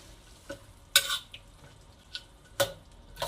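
Green beans cooking with curry leaves in a pan, a quiet background sizzle punctuated by a few sharp scrapes and clinks of a spoon against the pan.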